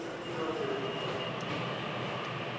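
An express train in Tokyo runs on toward Shimokitazawa, heard from inside as a steady, moderate rumble and hum of wheels and motors with no break.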